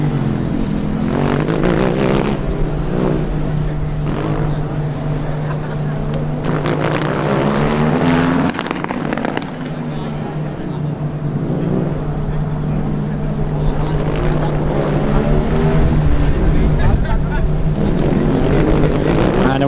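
Formula Student race cars in a 2009 endurance event lap the track, engines buzzing and whining as they pass at moderate distance with shifting pitch, while a commentator talks steadily over the windy, continuous noise.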